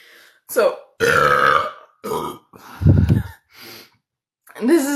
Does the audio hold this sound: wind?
no